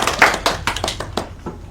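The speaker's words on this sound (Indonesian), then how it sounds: "Beri tepuk tangan untuk Kartika." A class gives a student a short round of applause during a micro teaching session, a handful of quick, uneven hand claps ringing out close by over about two seconds.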